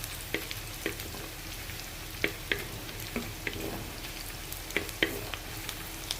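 Sliced onions sizzling in hot oil with a little salt, a steady frying hiss broken by a regular series of sharp stirring scrapes and clicks, fairly close and with no one talking.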